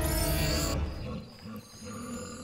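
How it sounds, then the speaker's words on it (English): A troll growls in the video game Fable Anniversary, giving a loud, deep roar that gives way to lower rumbling grunts, with no voice over it. "That is the sound of a troll."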